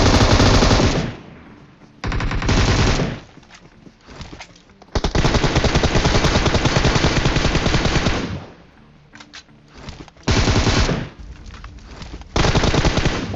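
Rapid machine-gun bursts from an M4 rifle in a squad-based shooter game during an enemy attack, loud and close, firing in long sustained stretches with short pauses between volleys.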